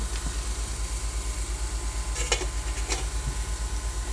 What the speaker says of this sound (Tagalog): haluin po muna natin bago po natin tatakpan